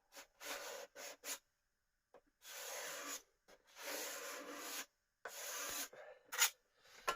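Old finish is scraped and stripped from an SME 2000 turntable plinth, with short scratchy rubbing strokes in irregular bursts and brief pauses, close and fairly quiet.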